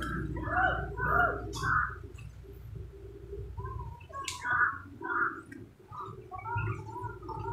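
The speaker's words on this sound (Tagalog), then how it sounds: "May uwak." Crow calling in a tense outdoor setting, a run of harsh, throaty caws in short bursts, then more clustered calls a few seconds later, moderately near over a steady low background rumble.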